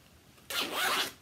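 A zipper on a handmade fabric bag is pulled once in a single smooth, raspy stroke lasting about half a second, close and clear against a quiet room.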